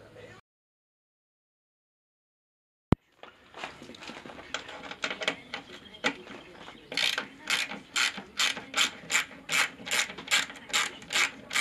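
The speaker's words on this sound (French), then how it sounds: "On a juste besoin en fait de dévisser cette vis là et on le fera basculer." A ratchet wrench unscrews a screw on a 50cc Yamaha TZR motorcycle: a faint click, then a sharp snap, followed by a rapid, even series of close, crisp ratcheting clicks that grow louder toward the end.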